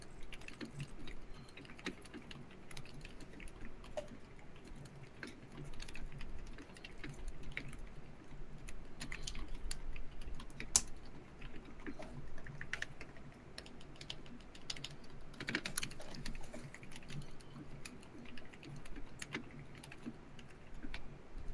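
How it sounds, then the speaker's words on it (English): Fingers type steadily on an unplugged computer keyboard, a continuous patter of soft key clicks close by with brief louder taps, heard alone. "I'm just kind of typing around real quick."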